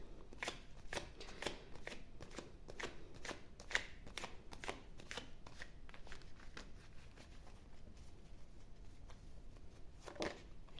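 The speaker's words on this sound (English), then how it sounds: "let's shuffle the cards to see what will be happening to you in the next week." Tarot cards are shuffled repeatedly, a quick series of soft riffling flicks and taps in an even rhythm, close but quiet, with no talking.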